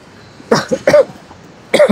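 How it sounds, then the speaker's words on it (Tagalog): Three sharp coughs close by, two in quick succession and a third after a short pause. "May ubo kasi ako"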